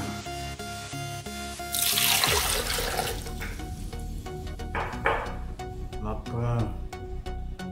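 Hot water pours into a blender with a sudden rushing splash, then settles into bubbling and trickling over a background hum, with a voice speaking nearby.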